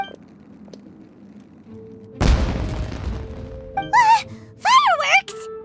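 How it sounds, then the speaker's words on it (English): Fireworks explode in Genshin Impact with a single deep boom that rolls off into a rumbling tail. Bright, wavering in-game musical sounds follow. "Was that an explosion? It sounded like fireworks."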